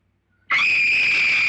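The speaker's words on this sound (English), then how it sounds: "A scream." A loud, sustained scream from the 1959 horror film House on Haunted Hill bursts in abruptly after near silence and holds at a steady high pitch to the end.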